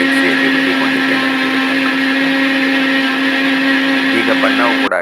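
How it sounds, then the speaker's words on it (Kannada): A mixer grinder whirs loudly and steadily as it grinds mint batter for neer dosa, a constant high motor drone that cuts off abruptly near the end. "ನೋಡಿ, ನಾನು ಯಾವ ಥರ ನಯವಾಗಿ ಮಿಕ್ಸಿಯಲ್ಲಿ ರುಬ್ಬಿಕೊಂಡಿದ್ದೇನೆ."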